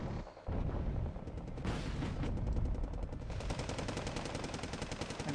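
Rockets and gunfire in a Wargame Red Dragon battle, with dense rapid cracks and rattling bursts rolling continuously for several seconds, loud and close with no voices over them.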